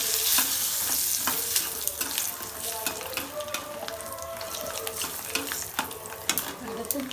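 Dried red chillies frying in hot oil while being stirred, making a dense steady sizzle broken by scraping and clinking strokes of the spoon against the pan, close up.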